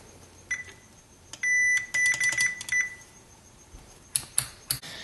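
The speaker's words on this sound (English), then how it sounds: "so I have to make a circuit that beeps when I press this button" Electronic beeping from a push-button Morse code practice circuit in a string of short, high-pitched tones, with a steady tone and rapid bursts in the middle, then a few sharper beeps near the end.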